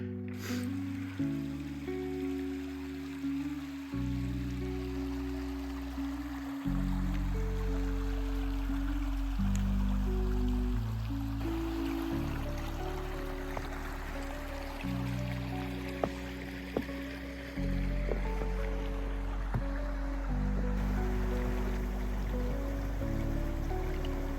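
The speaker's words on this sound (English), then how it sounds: "I made it to Arquilla Creek" A winter creek, Arquilla Creek along the Manistee River Trail, rushing steadily in the cold, a continuous broad wash of flowing water that holds at an even level throughout, with low tones running beneath it.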